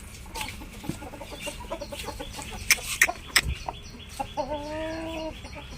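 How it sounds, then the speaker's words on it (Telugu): Domestic farm chickens cluck intermittently while being fed, with scattered close calls and a drawn-out call near the end, over a low background and no talking. "ఇవి మన కోళ్ళు ఫ్రెండ్స్."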